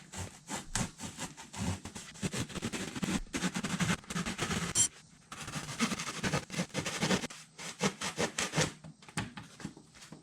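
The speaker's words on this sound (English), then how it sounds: "We're cutting this little triangle portion out on both sides." A hand saw blade cuts a triangular section out of a kayak seat in rhythmic back-and-forth strokes, close and fairly loud, with a brief pause midway before the sawing resumes.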